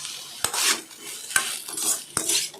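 A utensil stirs cooked banana stem stir-fry in a pan, giving three sharp clanks against the metal, each followed by a soft scraping sweep, close by.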